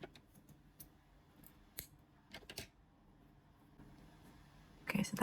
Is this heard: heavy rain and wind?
no